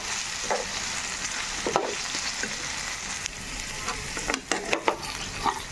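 Ginger fries in a pan for a methi aloo curry with a constant close sizzle, broken by several utensil scrapes and taps from stirring, no voices.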